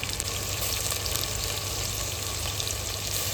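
Chopped onions frying in a pan for a roasted eggplant dish (ringan no olo): a steady, close, dense sizzle that stays constant throughout, with no talking.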